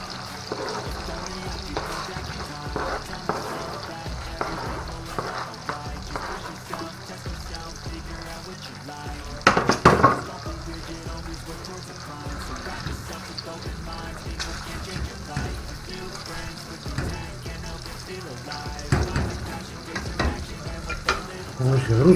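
Onions sizzling and frying in a pan while cepelinai (potato dumplings) are being made, with a steady crackle, stirring and occasional clatter throughout.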